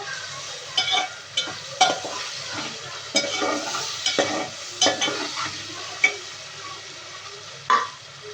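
One large red tomato is stirred into hot oil in a pan for a potato biryani, with quiet frying beneath a series of sharp spatula scrapes and knocks every second or so, close up and with no one speaking.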